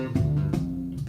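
A seven-string electric bass plucks a short riff in the style of the Seinfeld theme, with a few quick, quiet, slightly percussive notes heard close up and alone.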